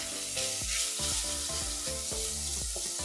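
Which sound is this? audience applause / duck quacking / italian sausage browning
italian sausage browning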